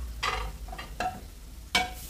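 Spoon stirring a pot of annatto and banana soup seasoned with smoked paprika, lemon pepper and salt, three or four short scraping swishes against the pot over a low simmering background, close and quiet.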